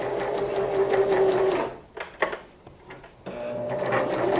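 A sewing machine runs in steady bursts while stitching along a scalloped fabric edge for a special occasion hem, pausing briefly mid-way as the fabric is turned, then resuming its close, even whir.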